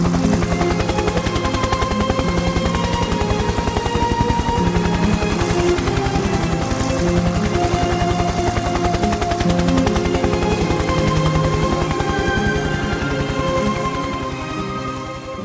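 A helicopter at a base near Reduzum keeps up a loud, steady rotor chop, a rapid rhythmic thudding mixed with engine whine that runs unbroken for about fifteen seconds and eases slightly at the end.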